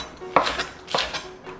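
A knife slices a green onion on a cutting board, making two distinct, close knocks about half a second apart with lighter taps in between.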